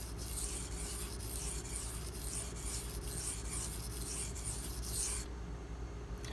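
Steady rasping strokes of a Benchmade Mini Griptilian blade being sharpened on an abrasive, a continuous close scraping friction that runs evenly then eases at the end.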